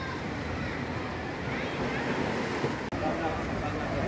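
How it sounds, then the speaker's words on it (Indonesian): Steady roar of ocean surf washing onto a beach at Air Dingin, Tapaktuan, South Aceh, Indonesia, with a constant wind-blown rush and no voices. "Ini adalah pantai"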